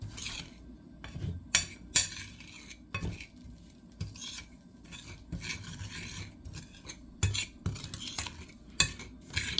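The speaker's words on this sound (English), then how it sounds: "so let me just mix this all in." Metal utensil scraping and clinking against a bowl while a spice blend of sage, garlic powder, onion powder, smoked paprika and parsley is mixed into oxtail, with irregular rasping strokes and sharp clanks close up.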